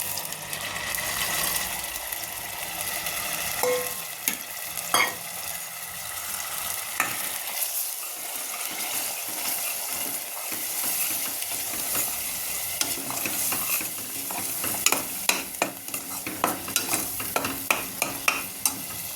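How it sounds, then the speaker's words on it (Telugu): Masala paste for a green country-chicken pulusu sizzles as it hits hot oil, with steady frying hiss, scraping stir strokes and sharp crackles building toward the end, no talking. "చూడండి ఆయిల్ వీటెక్కింది కదా ఇప్పుడు ఈ పేస్ట్ దీంట్లో వేసేద్దాం"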